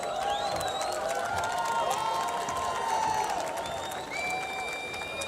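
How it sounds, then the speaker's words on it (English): Applause and cheering from an awards ceremony audience in Dubai as shortlisted retail campaigns are shown, mixed with bright whistle-like tones and steady crowd noise at moderate level. "A big round of applause to all."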